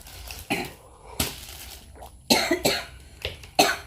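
Several harsh coughs spread over a few seconds, close and fairly loud, some coming in quick pairs, with quiet background between them.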